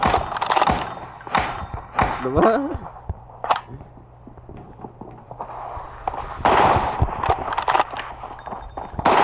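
Gunshots in PUBG Mobile ring out as scattered sharp cracks and metallic thunks, a cluster near the start and another later, mid-level against a quiet background with brief voice fragments.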